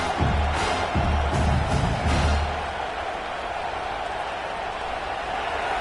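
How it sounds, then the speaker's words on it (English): Football stadium crowd at a college game roars with a broad, sustained wash of cheering and noise, louder at first and then settling into a steady distant din. "This crowd bringing the energy and noise early."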